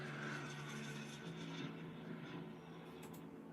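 A radio-controlled F-16 model jet with a full turbine engine flies past, giving a steady, loud roaring whine that holds level throughout and slowly eases near the end, with no talking.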